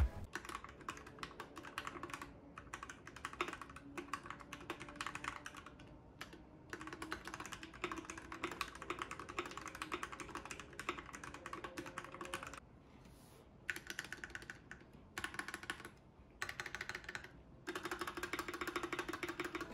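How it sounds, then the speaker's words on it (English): Typing on a custom mechanical keyboard fills the scene with a steady, close stream of crisp key clacks and thocks, fast and continuous with brief pauses, heard alone without talk. "let's listen to his typing test"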